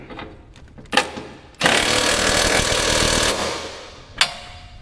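A power tool snugs down a big M10 bolt during an LS engine swap into a Porsche 944, with a couple of sharp clicks and then one sustained, loud, close burst of whirring and rattling lasting about two seconds, followed by a final tap.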